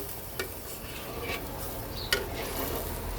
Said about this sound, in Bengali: সামান্য পরিমাণে জল মশলাটাকে আরেকটু সুন্দর করে কষানোর জন্য এই মিক্সড করে দিলাম